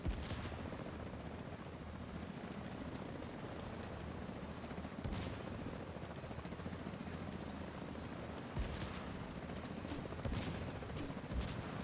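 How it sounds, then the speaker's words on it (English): Helicopters in the video game The Division 2 thrum steadily throughout, a dense continuous rotor roar with scattered bursts of distant gunfire layered on top. "There's our helicopters."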